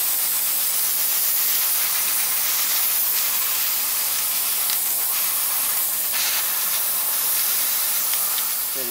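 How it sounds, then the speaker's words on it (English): An airbrush sprays silver paint onto a vinyl figure, a steady loud airy hiss that runs unbroken throughout. "Now I already still have some silver in the airbrush."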